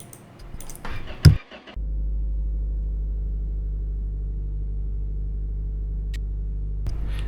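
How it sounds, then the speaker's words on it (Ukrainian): A Zhiguli (VAZ) car engine in the video game My Garage cranks with a brief sharp burst, then settles into a steady, loud, low idle rumble that continues alone to the end. "І ми запускаємо його двигунчик."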